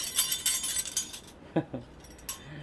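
Plastic measuring spoons clattering and clicking together in a quick jangle, then a few separate sharp clacks, close up.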